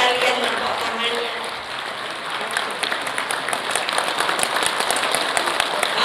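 Audience applause at an Indonesian political gathering, a dense, steady wash of clapping that fills the whole stretch and swells slightly toward the end, with a voice faintly present beneath it.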